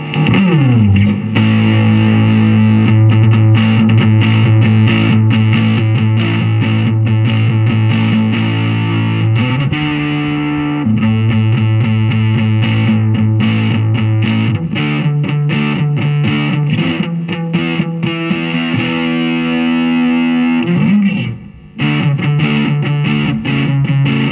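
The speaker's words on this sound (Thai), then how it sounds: "อ่าเรามาฟังเสียงแตกกันเลย" A budget Plato Strat-style electric guitar, heavily distorted, plays sustained chords, loud and gritty, with brief pauses between changes and no talking.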